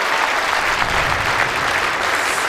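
Steady, dense applause from an indoor bowls crowd after a well-played shot at a world championship match, continuous and fairly loud throughout with no break.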